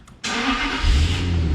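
A Jaguar XJ8 straight-six engine cranks and catches after a short quiet moment, then settles into a steady, fairly loud idle with a low rumble that swells slightly near the end, with no talking.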